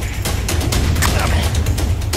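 Sharp, loud bursts from a toy pump gun sound in a quick run of close shots during children's outdoor play, with a little background chatter.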